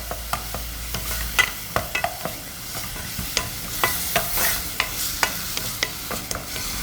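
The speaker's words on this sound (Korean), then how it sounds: "이렇게 양파 볶아주고" Onion stir-fried in a hot pot sizzles steadily while a utensil scrapes and taps against the metal in quick, irregular strokes, close up with no talking.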